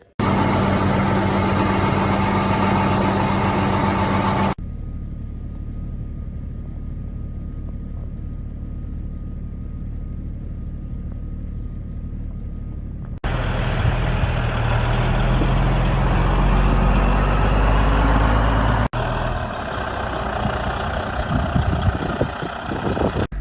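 A semi truck engine runs steadily at harvest time, producing a continuous low rumble. The sound drops to a quieter idle and then returns to a heavier, louder run, with rough bumpy noise near the end. No one speaks.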